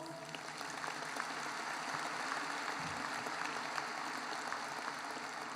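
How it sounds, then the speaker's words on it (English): Sustained audience applause fills a high school graduation ceremony, a dense, steady wash of clapping from a large crowd that holds at an even level throughout with no voices above it. "Would you give them another round of applause?"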